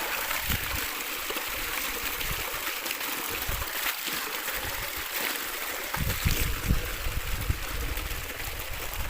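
Steady broadband rush of irrigation water flowing through a coconut farm, about a 2.5-inch flow, running continuously with a few louder splashy gurgles partway through.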